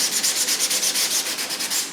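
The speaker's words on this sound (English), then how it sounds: "I can just take some sandpaper and just hand sand any little burrs or additional" Sandpaper rubs by hand along the hull seam of an RC submarine, making a close, steady rasp in quick, regular back-and-forth strokes of about eight per second that fade out at the end.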